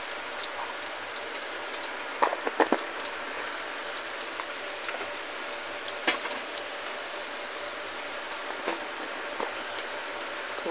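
Cumin seeds fry in hot oil with a steady dense sizzle and crackle. Small pops and stirring clicks break through now and then. The sound is close, with no talk.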